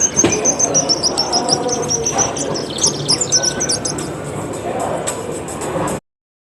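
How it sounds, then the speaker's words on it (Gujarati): A house sparrow chirps in quick, repeated bright tweets over soft background noise for about six seconds, fairly close, before the sound cuts off. "ચાલો ચકલીનો અવાજ સાંભળીશું"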